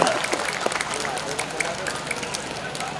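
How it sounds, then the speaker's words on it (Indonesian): Audience at an evening Quran recitation competition event applauding the city mayor and officials, a steady wash of clapping at moderate distance with a crowd murmuring underneath. "sekali lagi tepuk tangan yang meriah untuk Pak Wali dan Pak Wakil Wali Kota beserta Ketua DPR"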